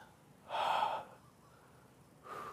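Deep breathing during a hip-stretching exercise: one long, close inhale or exhale, then a pause, then the start of another breath, quiet and alone.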